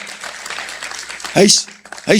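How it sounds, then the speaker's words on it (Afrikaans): A church congregation at a family service claps for DeAndre, a short burst of applause rising clearly out of the room's murmur, then fading before a second round starts. "kom ons gee vir DeAndre 'n hande klap"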